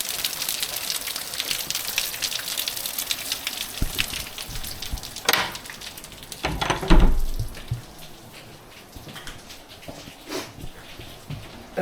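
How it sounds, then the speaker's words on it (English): Heavy rain pours down outside a 19th-century Welsh bothy at night: a constant, fairly faint hiss of downpour with occasional louder splashes and gusts rising briefly over it. "Absolutely chucking it down"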